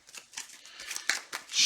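Playing cards being shuffled at a tabletop card game, a quick series of soft, crisp riffling snaps and flutters ending in a brief louder rush, close and with no talk.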